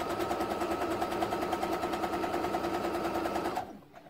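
A sewing machine stitches a Y-shaped seam on a quilt, a fast steady mechanical whirring and clatter close by that stops abruptly near the end.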